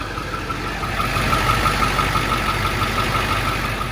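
A Ford F350 with a 7.3 diesel engine idles just after an oil change, a loud, steady, close clatter and rumble with an even rhythm and no speech over it.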